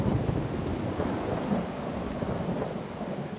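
Steady rain pours over the Amazon rainforest in a dense, continuous hiss with low rumbling underneath, loud and close throughout without a break.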